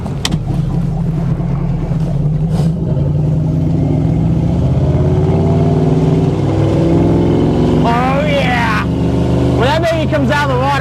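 A Crownline 225 LPX speedboat engine with open exhaust roars steadily close by on the water, its pitch climbing as it revs, with people talking briefly over it near the end.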